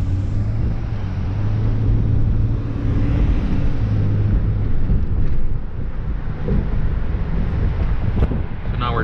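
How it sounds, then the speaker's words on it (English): A car driven with EMC Aevit hand controls, heard from inside as a steady loud rumble of engine and road noise with strong wind buffeting throughout, no break in the drone. "So now we're driving."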